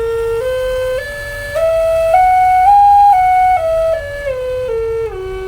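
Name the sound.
Native American flute playing a scale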